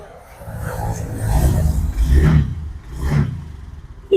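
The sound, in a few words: motorcycle engine revving during sound check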